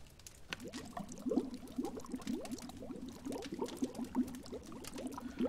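Water simmering over a campfire in the survival game The Long Dark, a steady stream of bubbling, popping pops rising and bursting continuously at moderate volume, close and alone without speech.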